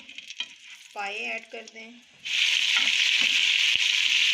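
Spiced masala frying in a pan for mutton paaye, with mutton trotters added: a voice talks briefly, then a loud, steady hiss and crackle of hot oil sizzling fills the rest.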